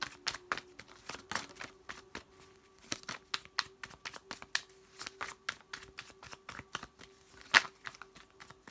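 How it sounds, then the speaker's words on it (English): A deck of tarot cards is shuffled by hand in quick, crisp bursts of riffling and snapping clicks. A faint steady hum sits underneath, and no one speaks. "That was on the bottom of the deck when I started shuffling."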